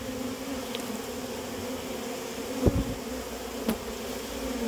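A swarm of honeybees hums in a continuous, even drone while being collected and housed in a hive, with a couple of faint knocks and taps breaking through.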